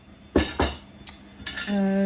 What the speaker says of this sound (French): je vais en profiter pour vider le lave-vaisselle